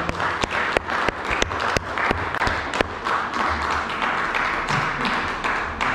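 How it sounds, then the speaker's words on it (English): A church congregation gives a clap offering at a Father's Day morning service, with sharp, uneven hand claps ringing out over a continuous bed of applause, fairly close and loud. "Let's give him the best clap offering for this morning."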